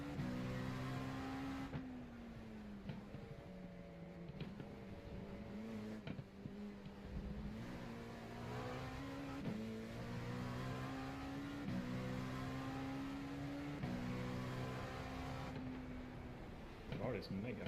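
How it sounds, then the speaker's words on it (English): A race car engine drones and revs continuously in the iRacing sim during an IMSA Le Mans round, pitch rising and falling with gear shifts, with a commentator talking over it throughout. "The car is mega fast."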